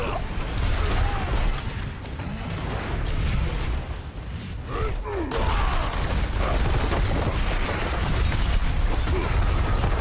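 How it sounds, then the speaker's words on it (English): An ability explosion in Diablo IV bursts into dense, loud crackling and rumbling combat noise, with a brief dip near the middle before the clatter resumes steadily. "Yep, that explosion alone is enough."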